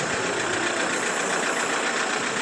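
Tractor engine left running at idle, a steady, close, unbroken mechanical hum and rattle with no talk over it.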